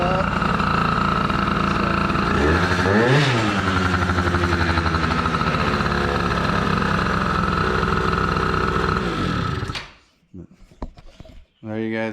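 A DRR ATV engine runs loud and close at a steady idle, revving up briefly, then cuts out abruptly, leaving near-silence broken by a few faint knocks.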